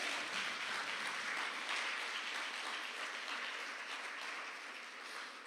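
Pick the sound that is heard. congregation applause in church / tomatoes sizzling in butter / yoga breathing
congregation applause in church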